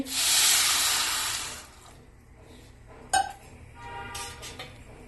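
Boiled water is poured into oats in a cooking pan for oats upma, a loud rushing splash for about a second and a half, then quiet with a few clinks and knocks of the pan.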